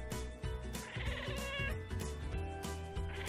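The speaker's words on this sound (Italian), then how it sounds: "i Maine Coon tendono a miagolare molto e a emettere diversi suoni" A Maine Coon cat meows repeatedly up close, drawn-out and loud, with varying pitch over a steady background.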